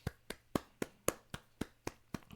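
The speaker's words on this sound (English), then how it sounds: "let's start this video off with a round of applause" A steady series of about nine sharp hand claps, evenly spaced and close, ringing out alone with no voices.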